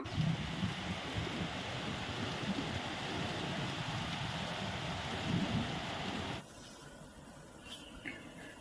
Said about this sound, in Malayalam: അല്ലോ മഴ വരുന്നുണ്ടല്ലോ